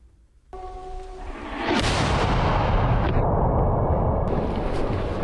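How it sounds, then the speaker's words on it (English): Gunfire in a short, intense military firefight near the Russian border, a sudden loud burst of booming shots swelling into a sustained roaring barrage that continues to the end, with no voices. "A short but intense firefight ensued."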